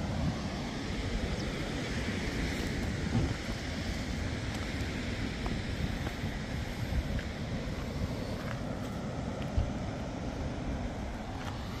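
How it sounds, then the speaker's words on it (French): Big ocean waves rolling and breaking along a shoreline, a steady broadband roar of surf mixed with wind buffeting the microphone, continuous and fairly distant with no one speaking. "Et il a l'air d'avoir des grosses vagues de fou là mon gars."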